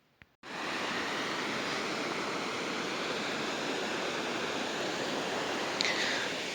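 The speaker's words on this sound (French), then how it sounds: "T'as la rivière en bas." After a brief quiet moment, steady rushing water begins and continues loud and unbroken, a fast-flowing river below a path at Sainte-Eulalie-d'Olt, Aveyron.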